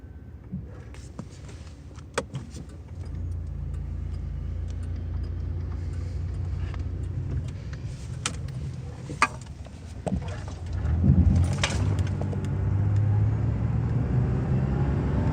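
Steady engine drone of a Bonneville motorcycle out on a test drive, rising in pitch and loudness as it accelerates near the end, with brief clicks and wind rumble over the continuous motor.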